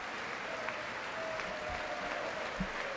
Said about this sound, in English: even the chairman of the Joint Chiefs are clapping